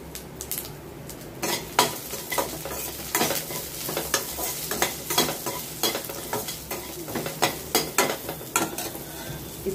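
Onions with curry leaves sautéing in a pan with a little salt, a spatula scraping and stirring in quick repeated strokes over a steady low sizzle, close and moderately loud.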